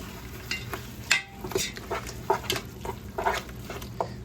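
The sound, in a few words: stirring ground turkey in a pan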